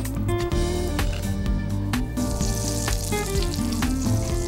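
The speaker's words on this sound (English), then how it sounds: "So we're gonna melt the butter." A tablespoon of butter melts and sizzles in a pan on a stovetop, a steady close hiss running under prominent background music throughout.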